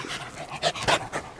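A dog in a motorcycle workshop pants close to the microphone, quick rhythmic breaths in short bursts, fairly loud with no speech over it.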